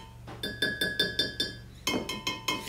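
Overfired bisque pottery clinks in a series of bright, ringing taps, about nine close knocks in quick succession with a short pause partway through, each with a sustained glassy ring.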